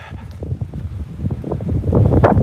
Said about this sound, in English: As we come around the hill, the wind's picking up.